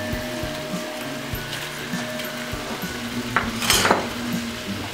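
Mutton with spinach, tomatoes and green chillies stirred and frying in a pan, with a steady sizzle, scraping spoon strokes and clinks of utensil against metal, growing busier near the end.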